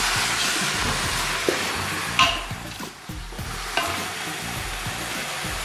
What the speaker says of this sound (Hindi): अब इसको हम आहिस्ता आहिस्ता इसको चलाएंगे।